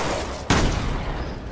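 A single sharp gunshot from the video game Resident Evil Revelations, loud and sudden, with a short decaying tail over steady background game noise.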